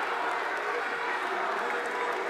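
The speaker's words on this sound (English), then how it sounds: "Crowd behind the fighters." Crowd noise at a KOK kickboxing World GP bout in London, a steady broad roar of cheering and clapping filling the space behind the fighters.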